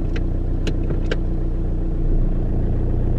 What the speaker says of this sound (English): there's a kick into reverse. And absolutely nothing for the drive.